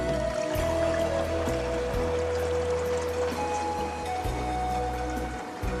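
A mixed solution is poured into a water-filled sprayer tank for catfish pond preparation, a steady splashing rush of liquid hitting water that continues without pause, with no voices.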